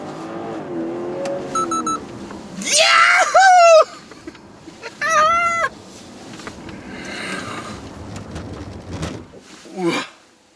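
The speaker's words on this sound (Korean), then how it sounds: "BMW 5 시리즈의 540i 슬라럼 테스트 한번 해보도록 하겠습니다" A BMW 540i running a slalom test, with engine and tire noise swelling and fading as the car weaves, broken by loud excited screams and shouts from people inside.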